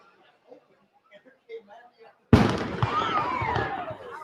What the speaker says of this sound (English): They got to learn to do these fireworks right.